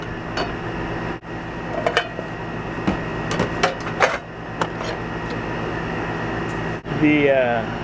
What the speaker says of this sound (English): The air conditioner is right out here, and so it might be picking up a lot of that noise